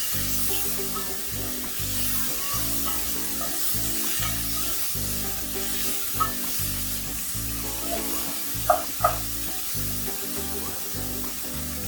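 Spices and food, including paprika, are tossed and stirred in a hot pan, giving a steady loud sizzle with scraping and occasional sharp clicks of a utensil against the pan.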